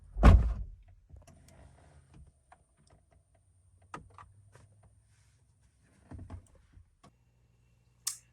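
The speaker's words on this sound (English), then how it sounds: "You sit in the car, you push the power button, and all you hear is like click, click, click. Battery's dead." A Corvette C8 with a dead battery gives a few faint, sparse clicks when the power button is pushed, scattered through quiet cabin stillness after a louder thump at the start.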